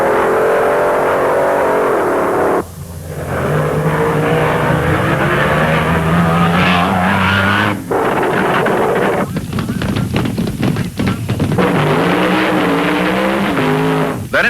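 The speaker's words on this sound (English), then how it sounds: "the Sunrise Mustang made a lonesome run with an ET of" The Sunrise Mustang drag car making a solo run at the 1972 UDRA Spring Nationals, its engine roaring loud and close with revving, gear changes and heavy wind buffeting on the microphone.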